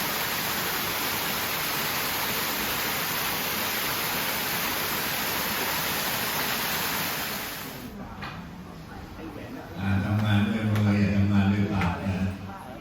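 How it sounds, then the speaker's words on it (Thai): Steady broadband roar of a waterfall on the grounds of Wat Paknam temple, loud and continuous for several seconds before fading, after which someone speaks over the softer background rush. "น้ำตกอยู่ในเขตวัดปากน้ำสวยงามมากเลยค่ะ"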